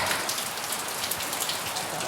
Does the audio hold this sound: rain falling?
yes